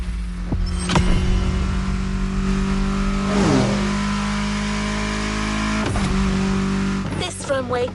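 A car engine revving on a runway drag strip in The Crew Motorfest racing game, with swelling rev sweeps and a sustained engine drone, loud and close, ending in a sharp final surge.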